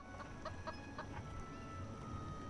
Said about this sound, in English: Mere seconds later, it attracted the attention of the curious chicken.